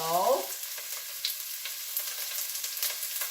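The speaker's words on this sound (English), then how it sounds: "make sure it's sizzling. Well, it's sizzling." Steady sizzling of onions and peppers frying in a hot pan for spicy white chili, crackling and hissing close by after a brief tonal blip at the start.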